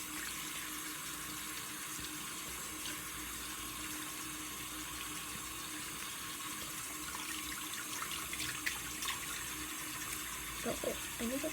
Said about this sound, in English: So I guess I'll wash my face first